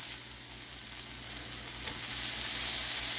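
Meat sizzles while browning on a Steelmade griddle, a steady, dense hiss and crackle held close and loud throughout, with no voices.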